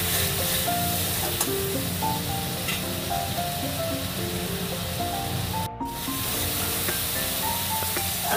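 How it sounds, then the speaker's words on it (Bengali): Spice masala fries in a pan for a kabuli chickpea curry, a steady sizzling hiss running under background music, with a brief dropout partway through. "আবারও ভালো করে মশলাটা কষিয়ে নেব।"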